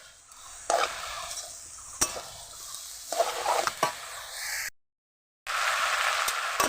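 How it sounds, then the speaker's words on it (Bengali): Spinach and mixed vegetables with green chillies, turmeric and salt frying in a pan, crackling sizzle broken by several sharp spatula scrapes and stirs, with a brief silent gap before the frying resumes. "নেড়ে চেড়ে দেব"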